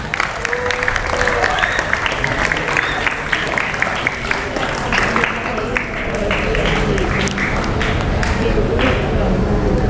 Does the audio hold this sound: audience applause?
yes